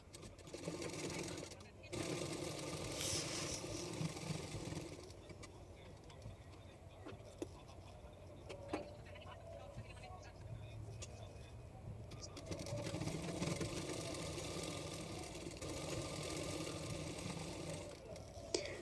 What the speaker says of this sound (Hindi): तो अभी मैं फिटिंग के लिए सिलाई कर रही हूँ।